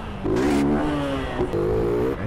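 A motorcycle engine revs in the game GTA San Andreas, a steady mid-pitched buzzing drone that rises and dips briefly, heard close and alone with no talking.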